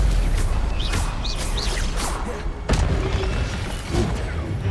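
A Stupefy spell is cast in the video game Hogwarts Legacy on PS5: whooshing magical bursts with sharp pitched sweeps and a heavy boom near the middle, loud and close.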